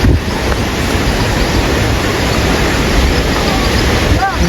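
Water rushes steadily at Lake Sebu in South Central Mindanao, a loud, continuous broadband wash like a stream or falls, with a few faint voice-like tones near the end.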